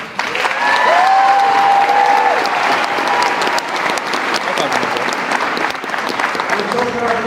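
A high school gym crowd applauds and cheers at a signing-day ceremony, with loud sustained clapping, whistles and shouts filling the full stretch, close and dense throughout.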